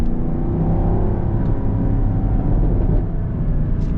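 The V8 of a 2023 Chevy Camaro SS drones loud and close under sustained load in overdrive, a deep steady rumble with slight pitch drift and no voices over it.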